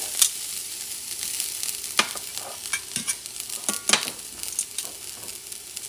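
Garlic fried in a couple of teaspoons of oil for Madrid chickpea stew, a light sizzle under repeated clinks and scrapes of stirring, with sharp utensil knocks against the pan.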